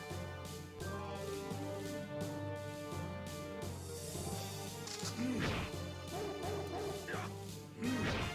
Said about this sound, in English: you can burn the zombie dog